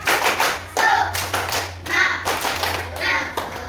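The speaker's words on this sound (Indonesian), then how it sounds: "Tepuk semangat dulu." A class of fifth-grade primary schoolchildren performs a rhythmic spirit clap in a classroom, with sharp, loud bursts of clapping in a steady pattern and a low hum underneath.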